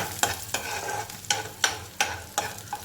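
Okra frying in a hot pan and stirred with regular spatula strokes, about every third of a second, each scrape rising over a quiet steady sizzle.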